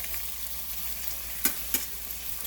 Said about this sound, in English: it's gonna take a few minutes for that bacon to fry